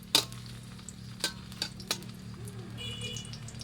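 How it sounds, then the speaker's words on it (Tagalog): Hotdogs, eggs and dried galunggong fish frying in a pan in an outdoor dirty kitchen, a steady low sizzle running throughout with a few sharp clinks of utensils against the pan. "Prito tayo ng hotdog at itlog at daing mga kapit at galunggong isda na binili natin kanina for breakfast."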